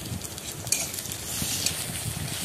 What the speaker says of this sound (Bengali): আদা রসুনের কাঁচা গন্ধ যাওয়া অবধি ভেজে নেব